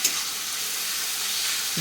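Shrimp and halved green chillies fry in a pan with a steady, close sizzle and hiss throughout, with no speech.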